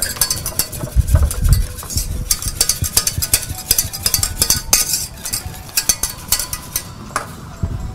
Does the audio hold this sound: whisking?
yes